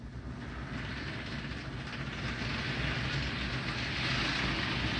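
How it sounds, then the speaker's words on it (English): An HO-scale model locomotive just put back on its track after derailing runs with its wheels slipping a little, giving a steady close whirring rumble with faint rail clatter that swells slightly toward the end, with no talking. "it sounds like the locomotive's wheel slipping a little bit"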